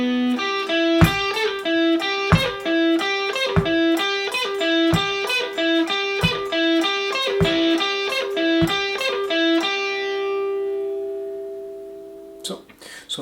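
A repeating distorted electric guitar riff with a gritty, processed tone plays clear picked notes, ending on a held note that rings out and fades.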